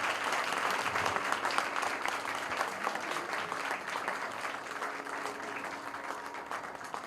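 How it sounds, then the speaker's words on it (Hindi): Audience applause at a devotional music concert: a steady, continuous wash of many hands clapping together, moderately loud and sustained throughout with no talking. "जोरदार तालियों से इनको आशीर्वाद दीजिए।"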